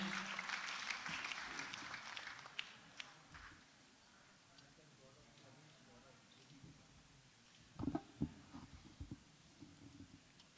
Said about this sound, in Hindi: जोरदार तालियों से स्वागत कीजिए